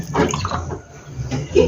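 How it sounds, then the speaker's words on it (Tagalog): Water splashes and gurgles as it is poured into a cooking pot for bulalo, a close, uneven stream that rises and falls in surges. "Lalagyan natin ng tubig."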